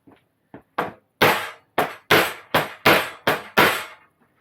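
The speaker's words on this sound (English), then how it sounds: "I need a hammer on that." A hammer tapping a piece down to fasten it in place, about nine sharp knocks growing from light taps to firmer blows in an even rhythm, close and loud in a quiet room.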